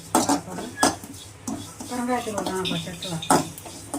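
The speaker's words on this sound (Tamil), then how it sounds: "அடுத்து சீரகம் போட்டு நன்றாக வறுக்கவும்" Cumin seeds dry roasting in a pan for homemade idli milagai podi, with repeated metallic clinks and scraping of a spoon stirring against the pan, close and moderately loud in uneven bursts.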